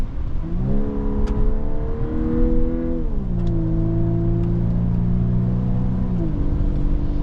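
A 2025 Volkswagen Atlas Peak Edition with an 8-speed automatic, accelerating on a wet road as heard from the cabin, its engine droning as the pitch climbs and drops through shifts, loud and steady over road rumble.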